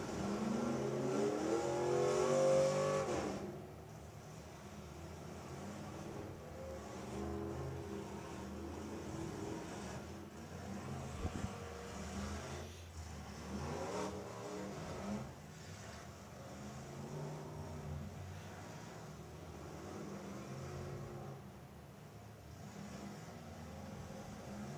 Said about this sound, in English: It's amazing you can smoke the tires in the mud